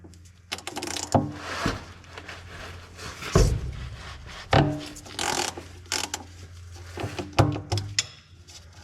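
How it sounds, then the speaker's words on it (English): Ratchet clicking while loosening the oil drain bolt on a Cummins 5.9 diesel with a long 3/8 ratchet, close and crisp, with short runs of pawl clicks between pauses and a few heavier clunks. "the drain bolt on these is just a regular 3/8 ratchet"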